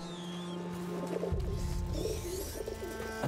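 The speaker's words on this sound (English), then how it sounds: "Actually, that sounds like a pigeon." A pigeon coos softly in A Plague Tale: Innocence, low murmuring calls set against a steady ambient game background with no talking.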